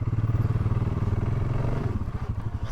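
Off-road motorcycle idling and clattering as it is put into gear on rough desert terrain, a loud, close, pulsing engine throb with mechanical clatter.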